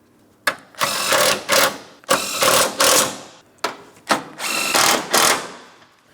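Power tool tightening 13mm radiator mounting bolts on a 2004-2008 Pontiac Grand Prix 3.8L V6, four close, loud whirring bursts of about a second each with short pauses between, no talking.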